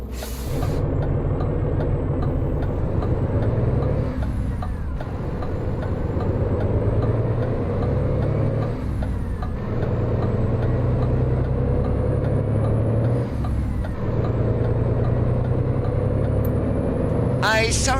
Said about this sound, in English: Oh, there's a truck coming.